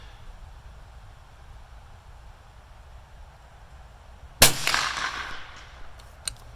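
A free-recoiling rifle fires a single sharp, loud shot across open ground toward steel targets at 200 yards, followed by a faint distant ring of impact about two seconds later over quiet background hiss.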